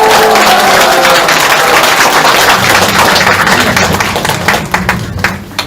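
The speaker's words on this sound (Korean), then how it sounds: "우리 의원님들 큰 박수 다시 한번 부탁드립니다" Applause from party members at a Korean political party inauguration ceremony for a provincial chapter chair, a dense broadband clapping wash that holds loud and steady before thinning and breaking into scattered claps near the end.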